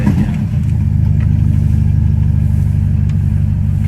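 Ferrari Roma cold start: a loud, steady engine drone right up close, rising briefly at the start and then settling into a high, even idle with no pauses.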